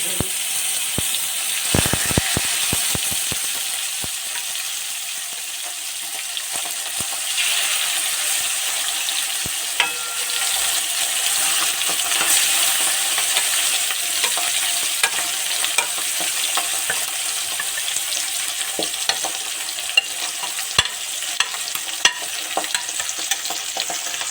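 Pabda fish fries in a pan for hariyali pabda, giving a steady close sizzle with faint crackle that runs unbroken throughout, with a few sharp clicks and scrapes of utensils, and no voices.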